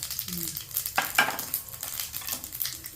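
Fennel seeds, cumin and small shallots sauté in hot oil for brinjal kuzhambu. A soft sizzle runs under sharp metal stirring scrapes and clinks against the pan, with no voices.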